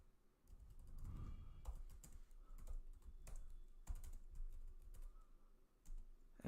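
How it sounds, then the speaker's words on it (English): Keys clatter in bursts on a computer keyboard as a git commit command with a message is entered, the clicks close and crisp with brief pauses between runs. "I'll be typing this."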